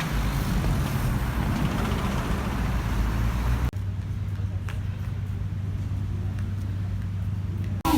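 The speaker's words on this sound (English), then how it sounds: "Yep, that's my bus." City bus on a cold night street, a steady low engine rumble and road noise that shifts abruptly partway through to a quieter idling hum, with faint clicks.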